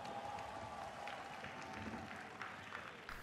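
Crowd at the Sony E3 2017 presentation, a continuous wash of applause and cheering heard faint and distant, as if captured from a stream, with no clear individual voices.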